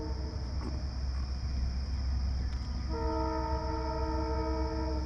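A Metra commuter train horn sounds loud and sustained from about the middle of the clip onward, following a rumbling train passing nearby outdoors, with steady low rail noise throughout.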